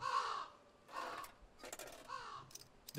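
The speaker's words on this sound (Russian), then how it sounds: "Вороны." Crows caw repeatedly in a snowy wilderness in Winter Survival Simulator, four or five harsh, drawn-out calls spaced about half a second apart, moderately distant and fairly quiet against a faint ambient background.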